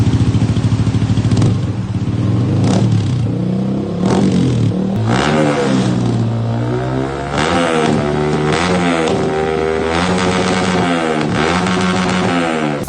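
A Yamaha R15M motorcycle fitted with a V-Lane Carbon 370 exhaust revs hard and close, its engine climbing and dropping in a string of repeated throttle blips over about thirteen seconds, loud and alone.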